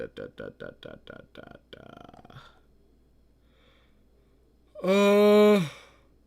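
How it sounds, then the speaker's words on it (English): A person burps: a string of short, rhythmic voiced bursts is followed by quiet, then one long, loud, deep belch close to the microphone. "How do I burp so much?"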